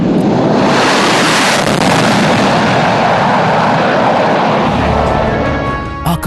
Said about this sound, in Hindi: जोश अपने चरम पर होगा जब वायु सैन्य शक्ति में इजाफा करने वाले एक C-17 और 2 सुखोई 30 मिलकर बनाएंगे